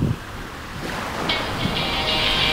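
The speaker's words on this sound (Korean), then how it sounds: "아, 파도가 좋다." Surf rolls steadily onto the shore at the Gangneung coast in a continuous broad wash, with wind buffeting the microphone and no voices.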